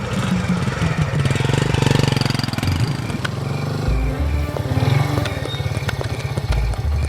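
A motorcycle engine runs with a steady low throbbing rumble, close and fairly loud throughout, with slight revving swells and no talk over it.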